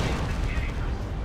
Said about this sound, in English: Those heavy bolters suppressing those guys